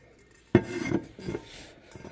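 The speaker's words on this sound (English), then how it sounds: "So I'm going to use sandpaper" Sandpaper scrapes across a tumbler being prepared for rhinestones, a sudden rough rasping stroke followed by a couple of softer grinding rubs, close and moderately loud, with no talking.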